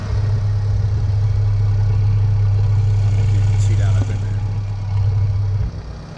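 A 2001 Honda Civic EX engine idling nearby, a steady low hum with a slight change near the end, heard under a speaking voice.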